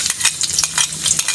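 Food is sautéed in a hot pan for a homestyle alamang dish with galangal, with a loud, close sizzle broken by quick rhythmic stirring scrapes.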